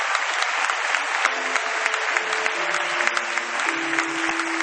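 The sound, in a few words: congregation applauding for the Lord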